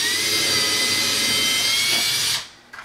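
A power drill boring a hole into a wall for a monitor mount whines loudly and steadily up close, then winds down and stops near the end, followed by a brief faint clatter.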